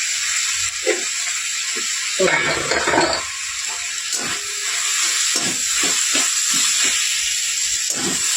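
Potatoes sizzle in ground spice paste in a pan for a fish head and spinach curry, a steady close hiss of frying running throughout, broken by brief stirring clatter and a burst of louder crackle early on.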